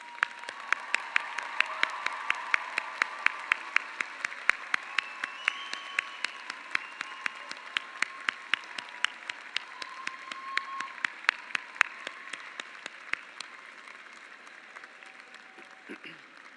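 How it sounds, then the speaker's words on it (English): Audience applause at a university graduate commencement ceremony, a sustained wash of clapping through a large hall that slowly fades, with crowd murmur beneath and an amplified voice near the end. "join me in thanking your family and friends with a round of applause."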